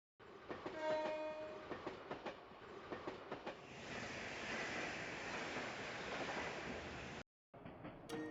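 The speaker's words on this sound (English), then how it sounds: "That was one of the transcontinental railroad services from Arabonia." A transcontinental train in a video game rolls past with a blaring horn, then a long, loud rumbling wash of wheels and cars, cut off abruptly near the end.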